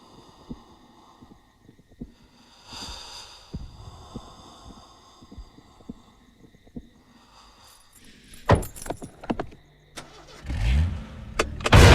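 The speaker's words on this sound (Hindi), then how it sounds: "मैं गाड़ी चला रहा हूँ, तू पीछे बैठ" A car engine cranks and starts after scattered thumps and clicks, then grows louder and rough toward the end, heard near and with no talking.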